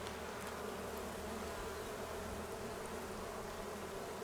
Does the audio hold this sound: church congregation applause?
no